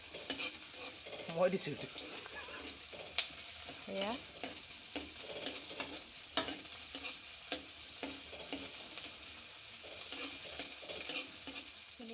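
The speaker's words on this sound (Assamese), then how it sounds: "এয়া পিঁয়াজখিনি ভালকৈ লৰাই ভাজি আছোঁ" Onions crackle softly as they are stirred and fried in a pan for a liver dry fry, with scraping strokes recurring through a quiet background hiss and a voice speaking briefly.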